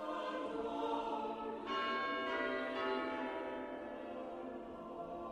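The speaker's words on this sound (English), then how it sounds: "The bells of St Andrew's in Chesterton have chimed out for hundreds of years." Church bells of St Andrew's in Chesterton chiming, a resonant tolling with several overlapping strikes that ring out and slowly decay, moderately distant and alone without voices.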